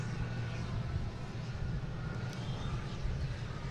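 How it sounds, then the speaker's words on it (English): Cape Air propeller plane taking off from Boston Logan airport, heard as a steady, moderately loud low engine drone carried from a distance, with no talk. "Got a Cape Air out there, just took off hitting the Provincetown."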